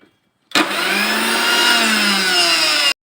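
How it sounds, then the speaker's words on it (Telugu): A mixer grinder whirs through roasted gram dal chutney with chilli and salt, starting abruptly and running as a loud, steady motor whine for about two and a half seconds before cutting off. "గ్రైండ్ చేసుకుంటున్నాను"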